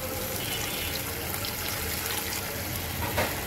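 Water poured into a pan of spicy katla fish curry, a steady broadband gush running unbroken for a few seconds at moderate level, with no talking over it.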